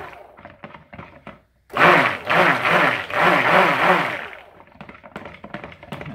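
A blender whirs in loud bursts while mixing a coffee espresso scrub for soap, preceded and followed by sharp tapping knocks, with a brief silent gap before the motor starts.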